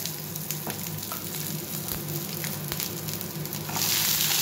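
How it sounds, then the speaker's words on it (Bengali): Capsicum frying in hot oil with dried chilli, garlic and quartered onion, a steady close crackling sizzle with occasional pops, growing louder near the end. "আমি একটু ফ্রাই করে নেব ক্যাপসিকামটা"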